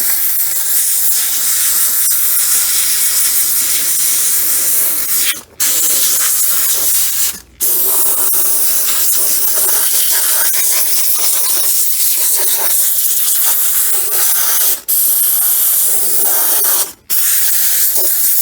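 A $16 Harbor Freight HVLP spray gun paints a Mercedes W124, producing a loud, steady airy hiss that cuts out for four brief pauses between passes.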